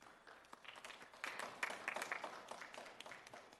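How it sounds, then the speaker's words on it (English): An audience at a county commissioners' work session gives a round of applause, a faint, brief burst of scattered clapping in a large room. "give you a round of applause and claps"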